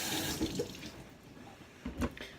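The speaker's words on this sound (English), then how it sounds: "Okay, so I'll rinse it off a bit." Food being rinsed under a running kitchen tap, a steady close splash of water with a couple of louder bursts as the item moves through the stream.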